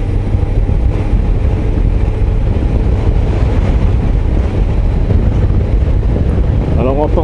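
A Suzuki GSX-S 1000 GT four-cylinder motorcycle is ridden, and heavy wind roar over the helmet microphone blends with a low, steady engine drone throughout. A voice speaks briefly at the end.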